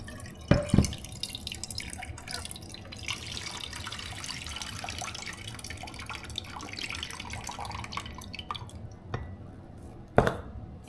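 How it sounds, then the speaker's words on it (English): Juice from canned yams draining into a saucepan: a quiet trickle with a few louder drips and clinks, fairly close and without talk. "I'm going to drain the juice into this saucepan that I have right here"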